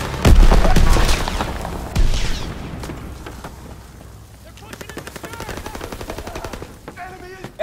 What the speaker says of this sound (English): Anti-aircraft salvo commenced.